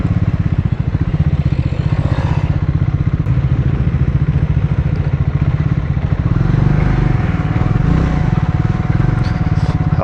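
A Triumph Scrambler 400X motorcycle rides a rough off-road detour, its engine droning steadily and close throughout with loose clatter and thumps from the uneven ground.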